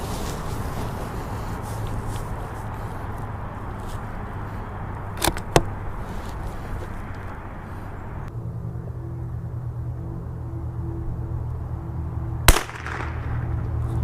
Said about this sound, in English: We are shooting the long range match SK.